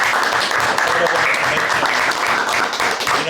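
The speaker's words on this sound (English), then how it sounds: "so round of applause for Dr." Audience applause for guest speaker Dr. Richard Martinez at a mastermind event, a dense, steady wash of many hands clapping close and loud throughout, with faint voices mixed underneath.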